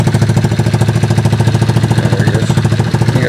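A small kids' golf cart engine running in first gear gives off a rapid, even chugging pulse, loud and close, with no voices over it.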